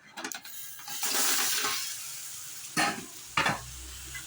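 Pieces of boiled egg fry with masala in hot oil, giving a close sizzling hiss broken by a few sharp stirring scrapes and clatters, with no speech.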